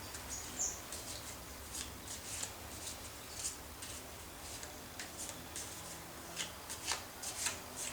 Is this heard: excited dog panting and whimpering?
no